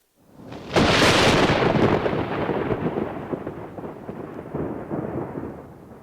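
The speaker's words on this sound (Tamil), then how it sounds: "என்ன இது இந்த நேரத்துல மழை வந்துடுச்சு" A heavy thunderstorm with rain over a farm in Kanchipuram district: a loud, close thunderclap breaks out and then rolls away slowly beneath steady rainfall. A second, weaker rumble swells near the end. No voices.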